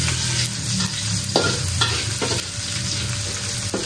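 Garlic, shallots and chili sauté in hot oil in a wok, loud steady sizzling up close, broken by repeated scraping strokes of a spatula against the metal.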